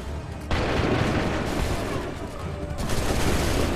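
Massed musket gunfire from soldiers in the Montreal section of the video game Assassin's Creed 3 erupts abruptly and loudly, holds as a dense crackling roar, then a second burst swells near the end.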